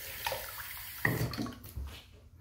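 An Omega boar hair shaving brush is rinsed under a running tap, giving a short, close splashing and gurgling of water with a few sharper spatters, no voice present.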